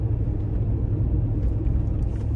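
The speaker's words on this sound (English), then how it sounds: "so much fucking noise. That's all the clutch, man." Steady low roar from a truck's engine fan clutch, a dense continuous rumble heard up close and loud with no break or talking.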